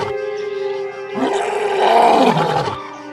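A single deep, drawn-out roar from an old lion in a forest, rising in strength and fading after about two seconds, loud and alone.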